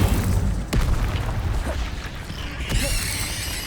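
Incendio fire spell cast in Hogwarts Legacy gameplay: a sharp whooshing burst of flame with a low booming thump, followed by a second crackling fiery release, loud and close.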